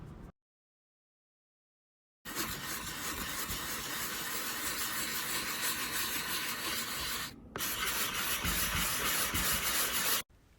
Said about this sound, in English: I reapplied more joint compound, sanded it again